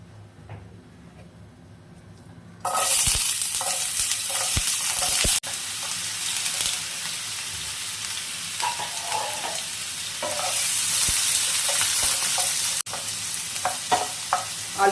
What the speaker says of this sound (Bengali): কালো সর্ষে ফোড়নটা রেডি হয়ে গেছে এবার দেব আলুগুলো আলুগুলো প্রথমে কষিয়ে নেব